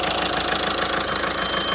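A VW Caddy 1.6 TDI diesel engine idling up close during alternator work, a steady rhythmic knocking chug with a fast even pulse and broad mechanical rumble, loud and unbroken with no talk.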